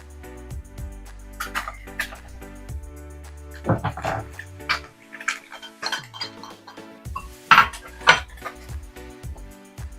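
A spoon stirs added ingredients into flour in a mixing bowl, giving close, irregular scraping and light clinks against the bowl, with a few sharper knocks near the end.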